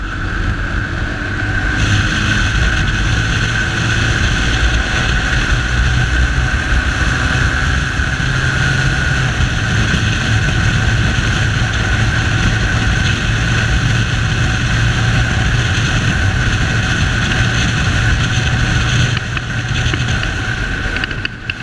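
A Bajaj Pulsar 220F motorcycle riding along a coastal road, its engine a steady, loud drone under heavy wind rush that stays constant throughout, with no talking.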